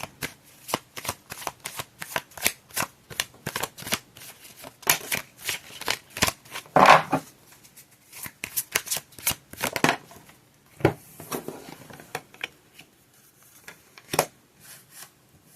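Tarot cards shuffled by hand at close range in repeated sharp riffling bursts and soft slaps, irregular and crisp against a quiet background, with no talk.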